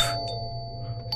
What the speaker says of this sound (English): And why am I ringing the doorbell?